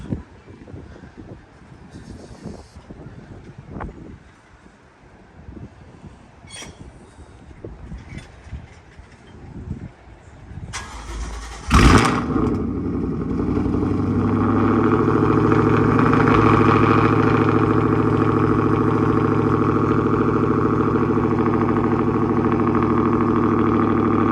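Quiet shuffling gives way to a starter whir and a Ford Mustang 5.0 V8, fitted with Roush axle-back exhausts and an X-pipe, bursting into life on a cold start, then settling into a loud, steady, rumbling idle.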